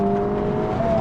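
A Honda Civic Type R (FL5 or FK8) accelerating in third gear down the straight at Rockingham, a loud steady engine drone with strong tonal harmonics, heard from inside the car with no talk.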